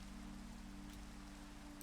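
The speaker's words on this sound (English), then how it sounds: "what is with this rain?" Steady rain falls in a Minecraft-style survival multiplayer game world, a continuous soft hiss of drops on surfaces heard alone at low volume with no talking.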